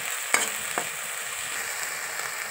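Spice paste (vatan) sizzling in hot oil in a pan, a steady close frying hiss with a couple of sharp stirring clinks early on, no voices.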